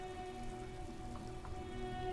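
Rain falls in the video game Disco Elysium as a quiet, steady patter under a faint tonal hum, with no talking.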